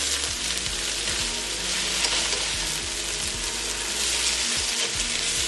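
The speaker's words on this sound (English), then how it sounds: "So this cabbage has now been cooking for about 20 minutes in total." Cabbage caramelizing in a pan after about twenty minutes of cooking gives a steady, close sizzle and crackle, with occasional stirring scrapes and no talk.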